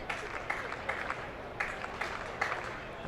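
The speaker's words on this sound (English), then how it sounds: "And the Longhorns fans starting to clap." Longhorns fans at a Texas college baseball game against UTPA clap in a faint, rhythmic pattern of distant handclaps, spread through the ballpark under a low background murmur.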